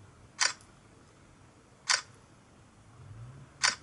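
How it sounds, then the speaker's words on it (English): An LG G4 smartphone camera fires its shutter three times, each a short, crisp synthetic click spaced about 1.5 seconds apart, close and clear over a faint low background hum, with no talking. "let's take a quick photo of this"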